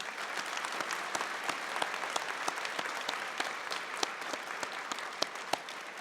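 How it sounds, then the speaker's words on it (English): Sustained audience applause at a SAIT winter convocation ceremony, dense even clapping with a few sharper claps standing out, steady and moderately loud throughout. "they also deserve a very robust round of applause"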